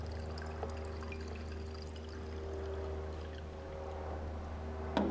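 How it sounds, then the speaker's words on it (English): Aviation fuel is poured from a jar back into the tank of a Piper Warrior II, a faint, quiet trickle over a low steady hum, ending with a small knock. "We can dump this back in the fuel tank."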